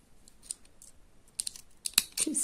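Small scissors snipping thread or cord while making a handmade beaded flower charm necklace, a few short crisp cuts close up in a quiet room.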